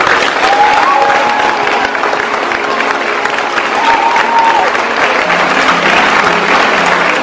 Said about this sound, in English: this will be your final round of applause as the leaders of Willoughby Girls High School.